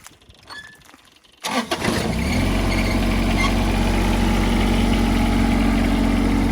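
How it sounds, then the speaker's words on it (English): A diesel tractor with low hours cranks briefly, catches and settles into a steady, loud, close idle that rumbles on without pause. "Crank her up, Dan."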